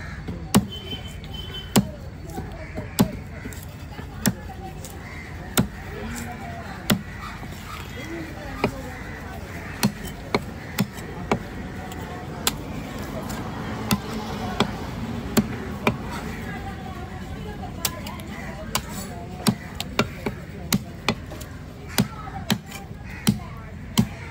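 Sharp knife strikes chopping through vanjaram and red snapper at a fish-cutting stall, landing as regular loud thuds roughly every second or so, with people talking throughout.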